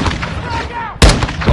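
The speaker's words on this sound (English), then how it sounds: "They're launching grenades!" A grenade explosion in the Call of Duty Modern Warfare 2 campaign bursts out as one loud boom midway, following shouted voices and battle noise.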